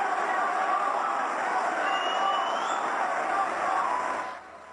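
A conference crowd cheering and applauding, a dense sustained roar at moderate distance that holds steady then drops away near the end, with no clear speech over it.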